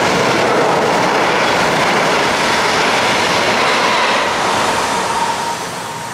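A train rumbles past close by on a railway bridge, a loud steady roar of wheels and rail noise that fades slightly toward the end.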